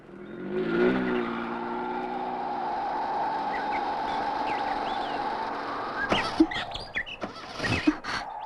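An engine with starting trouble idles unevenly and whines steadily, with a sputtering rise near the start. Near the end come several sharp knocks and clatters, and no one speaks.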